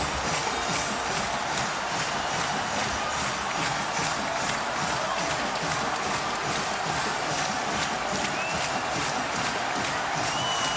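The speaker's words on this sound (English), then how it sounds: "the crowd's coming out anyway" Boston College stadium crowd at a college football game rushing the field after a win over ninth-ranked USC, a dense continuous roar of many voices with steady scuffling and footfalls, loud and unbroken throughout.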